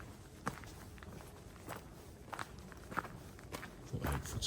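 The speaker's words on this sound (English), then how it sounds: "Thought I heard footsteps." Quiet, irregular footsteps crunch on the ground outdoors at a wild camp near a graveyard and mausoleum in Delaval, a handful of soft steps spread out over a few seconds.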